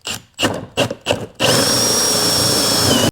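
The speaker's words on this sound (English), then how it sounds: "let's drill some holes in this lid so we can get this thing together." A power drill drilling holes in a lid whirs in four short bursts, then runs in one long continuous whine, loud and close.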